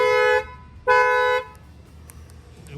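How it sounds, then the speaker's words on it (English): The factory alarm of a 2020 Infiniti Q50 sets off its horn, two loud, close, sustained honks with a short gap between them, followed by quieter background noise. "now I'm going to show you that the alarm will fire off"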